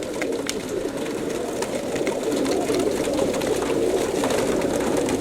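Young racing pigeons in a loft, many birds cooing at once in a dense, steady murmur with occasional sharper calls, close and continuous.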